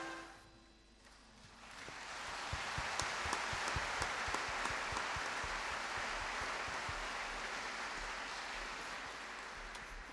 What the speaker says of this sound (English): Let's have one final round of applause for John, Dennis and Roy.